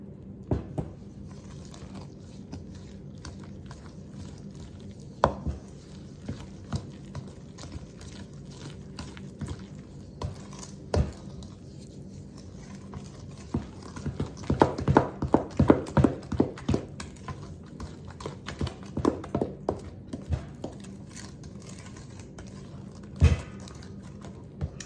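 Dry ingredients are mixed by hand into banana nut bread batter, giving irregular soft taps, clicks and scrapes that grow busier and denser through the middle stretch before thinning out. Nobody talks.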